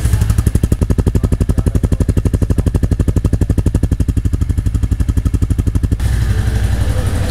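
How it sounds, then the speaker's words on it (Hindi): A Royal Enfield Classic 350 motorcycle idles close by with a deep, evenly pulsing thump-thump exhaust beat, steady throughout, shifting slightly near the end. "एग्जॉस्ट नोट अपन इसका सुन लेते हैं एक बार।"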